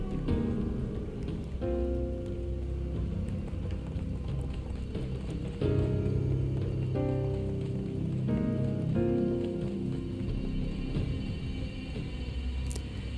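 Rain set off in the video game Stranger of Paradise Final Fantasy Origin, a dense steady patter of raindrops on surfaces, loud and continuous, with game music tones sounding through it.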